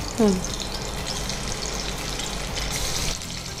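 Tomatoes hit hot oil with a burst of louder spattering right at the start, then the oil sizzles and crackles steadily in an even fry.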